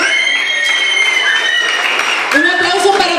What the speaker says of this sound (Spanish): Un aplauso para Valeria